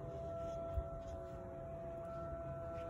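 A civil defense siren wails steadily at a distance in Terrell, Texas, as a sustained tone that holds level across the whole stretch, with faint outdoor background and no talk.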